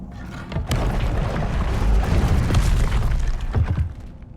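A Confringo spell blast in the video game Hogwarts Legacy booms loudly, a rumbling explosion that holds for about three seconds with a shattering, crackling tail, then cuts off.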